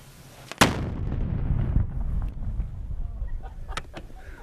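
A bomb set off by a disposal team in Afghanistan, one sharp close blast followed by a long rumbling roll that fades out, with faint clicks and knocks afterward.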